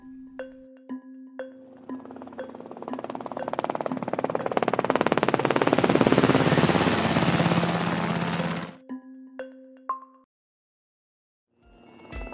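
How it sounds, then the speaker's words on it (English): A helicopter approaches and passes, its rotor chopping into a loud, dense whir that peaks and then cuts off, with sparse tones before and after. "It's a helicopter."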